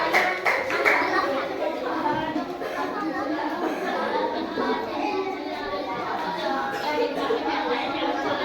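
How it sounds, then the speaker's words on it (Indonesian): Group applause in a classroom setting, scattered clapping mixed with children's chatter and young voices talking over it, moderately loud and busy for the whole stretch. "kasih tepuk tangan"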